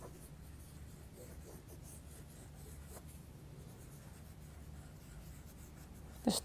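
A Derwent Inktense pencil scribbles in random squiggles on fabric, giving a soft, steady, faint scratching rub close up. A brief bump comes at the very end.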